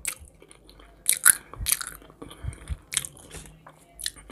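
Someone bites and chews a reheated, pan-warmed cheburek pastry from a kiosk close to the microphone, a series of crisp crunches and wet chewing sounds in irregular bursts, without talking.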